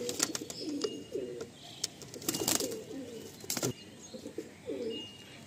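Pigeons coo repeatedly in a loft, low rounded calls in short bursts close by, mixed with wing flutters and light clicks.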